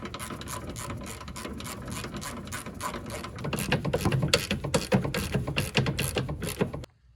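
Ratchet snugging lower control arm bolts on a Jeep Grand Cherokee, a steady run of rapid clicking that grows louder and busier midway, then stops abruptly.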